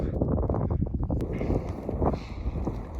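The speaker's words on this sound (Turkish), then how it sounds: "Rüzgar sesini bayağı duyuyorsunuzdur muhtemelen" Strong wind in the Andes mountains of Peru buffeting the microphone, a constant low rumbling roar with gusty swells and no voices.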